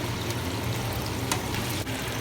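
Steady sizzling and crackling of pork loin frying in a hot pan, continuous and close, with a couple of brief clicks and no talking.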